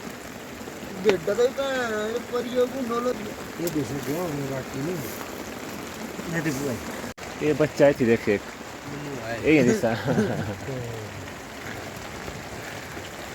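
Heavy rain falls steadily in the Himalayan mountains, a continuous hiss running beneath close conversation as several people talk over it throughout.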